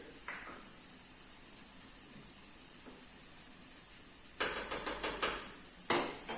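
Ingredients going into a pot of quick homemade soup: a few soft knocks and clinks early on, then a short cluster of sharp metallic clatters and a final bright clink near the end against a quiet background.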